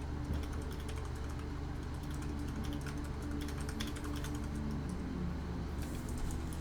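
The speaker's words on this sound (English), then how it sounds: "Sorry if you guys hear my keyboard. I'm typing notes." Light, fast typing on a computer keyboard, soft clustered clicks running over a steady background hum, moderately distant and fairly quiet.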